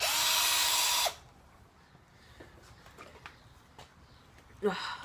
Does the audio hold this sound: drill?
yes